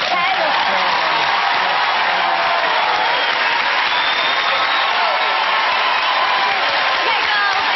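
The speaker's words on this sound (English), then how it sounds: "So a big round of applause for them." A studio audience on a TV entertainment show gives One Direction loud, continuous applause mixed with cheers and whoops, and voices come through the clapping.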